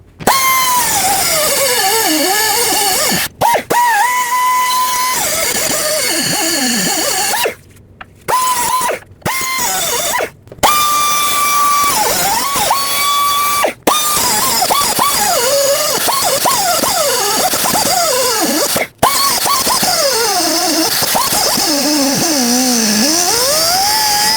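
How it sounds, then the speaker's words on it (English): A cutting tool slices through the upper ball joint stud of a 2001-07 Toyota Sequoia to leave it flush with the base, a loud sustained whine with wavering pitch that breaks off in several short pauses. "So I'm going to cut the stud flush with the base of the ball joint"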